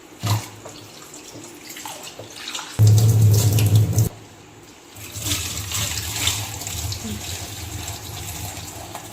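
Tap water runs into a kitchen sink while food is washed, a loud gushing burst for a second or so amid softer splashing and handling noises, with faint talk.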